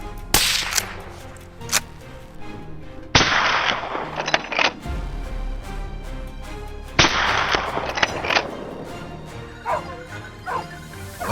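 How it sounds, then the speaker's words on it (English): Rapid gunshots crack out during a night wild boar hunt, sharp bursts in quick clusters separated by short gaps, loud and close with echoing tails. "The rapid gunshots echoed,"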